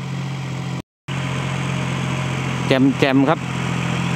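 A New Holland TT45 farm tractor engine idles with a steady low drone on a field of damp, dusty soil, briefly cut out, while someone talks over it near the end.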